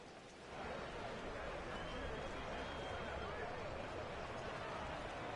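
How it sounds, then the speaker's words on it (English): Steady rain hisses across a stadium in an American football video game, a dense, even wash of noise that holds for the whole stretch with a commentator talking over it. "The rain set to continue as we are underway in the second half."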